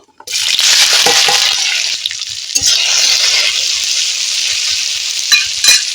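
Okra stalk pieces sizzle in hot oil with dried red chili, cumin and a bay leaf, a steady, close crackling hiss that runs continuously with small pops and stirring clatter.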